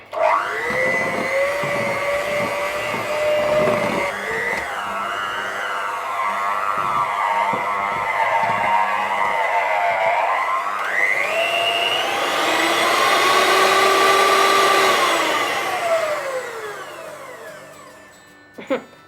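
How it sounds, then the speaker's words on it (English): A hand-held electric mixer beats Viennese whirl biscuit dough in a bowl, a steady close motor whine that rises and falls in pitch as it works the mixture, running continuously for most of the stretch before cutting off near the end. "get my electric mixer back out and just give this a good beat through"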